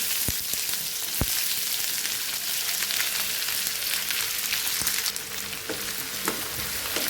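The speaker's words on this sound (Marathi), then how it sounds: "आता ह्या गरम तेलामध्ये मी कांदा घालत आहे।" Chopped onions hit hot oil and fry for chicken biryani, giving a steady, loud, close sizzle with a few sharp crackles and pops and no talking.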